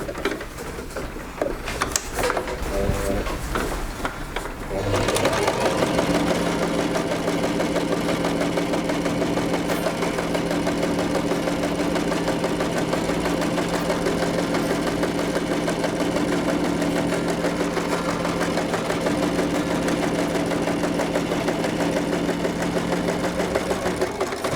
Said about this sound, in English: I'm just going to roll it back like that and top stitch